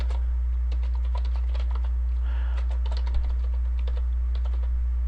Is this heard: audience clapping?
no